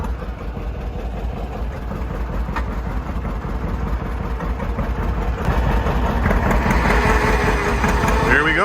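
A John Deere 60 tractor engine runs on a dyno, a steady low mechanical rumble that grows louder and busier toward the end, with talk faintly underneath.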